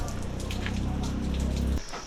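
Rain falling on an umbrella at a tarsier sanctuary in Bohol, Philippines, a dense close patter with a heavy low rumble that cuts off abruptly near the end.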